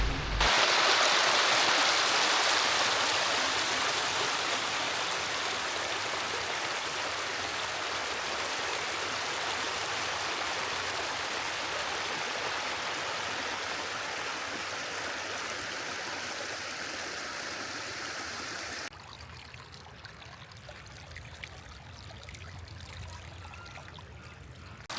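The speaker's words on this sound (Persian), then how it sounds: "چیزی که الان باقی مونده همین یه جو باریک است" A narrow stream of water flows over the travertine terraces at Pamukkale, a steady close rushing and trickling that stays constant, then drops to a quieter flow near the end.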